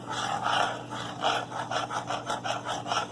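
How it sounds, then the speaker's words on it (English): A utensil scrapes the bottom of a pan while gravy is being made, giving repeated rhythmic rasping strokes, close and moderately loud, with no talk. "So I'm scraping the pan because I want all the stuff from the bottom of the pan."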